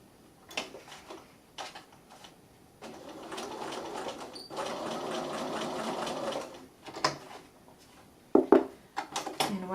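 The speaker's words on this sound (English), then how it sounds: "Don't forget to back stitch just to make sure it holds it in place." Sewing machine stitching fabric for a reusable shopping bag, starting with short stop-start bursts of stitching, then a steady run of rapid, close mechanical clatter, ending with a few more short bursts and clicks.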